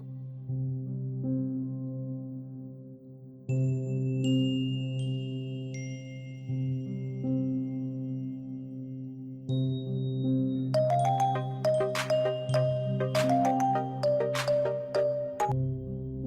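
A mobile phone plays a synthetic ringtone melody for an incoming call from dad. Bright tonal notes sound over a steady sustained hum, and the high chiming grows busier toward the end.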